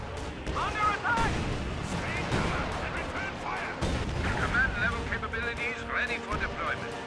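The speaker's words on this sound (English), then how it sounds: "Pack Howitzer bombarding this the entire time is very scary." A pack howitzer bombardment in a strategy video game, with repeated booming artillery blasts and scattered gunfire in a busy battle mix, heard under a commentator's talk.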